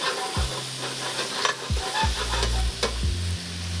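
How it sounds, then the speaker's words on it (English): Peppers and mushrooms fry in a pan with a steady sizzle, while a utensil stirs and scrapes them several times at close range. "Then I'm going to go in with the peppers and the mushrooms. Gently fry them off."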